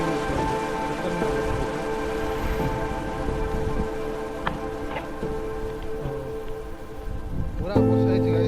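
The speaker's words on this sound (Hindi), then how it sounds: "पूरा वर्षा है गाइस" Heavy rain pours down on a flooded village in Jharigam, a constant wash of falling water over a low steady hum, with a few brief knocks near the end.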